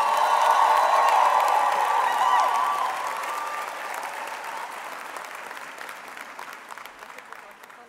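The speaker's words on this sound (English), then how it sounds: "please give the biggest ululations and hand claps for Jonathan Van Vieren." At a university autumn graduation ceremony, an audience gives a loud burst of applause with hand claps and high ululating cries, which gradually fades toward scattered clapping.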